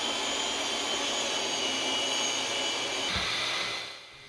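A power saw cuts the ends of walnut boards for a standing desk, a steady loud whine running without pause for about four seconds before tapering off at the end.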